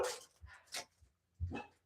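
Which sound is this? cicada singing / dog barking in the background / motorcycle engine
dog barking in the background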